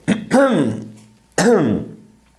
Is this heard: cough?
yes